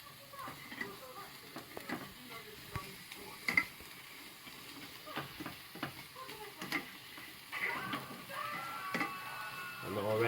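A spoon stirs bolognaise sauce with herbs in a pan, soft scraping and clicking strokes over a faint background sizzle, with quiet intermittent knocks.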